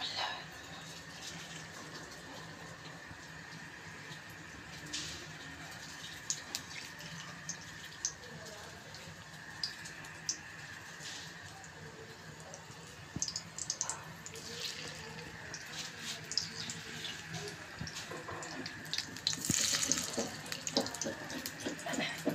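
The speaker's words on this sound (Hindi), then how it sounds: "अब हम पकोड़े तल लेंगे।" Mixed vegetable pakoras frying in hot oil over a low flame give a faint, steady crackling sizzle with scattered small pops that grow busier toward the end.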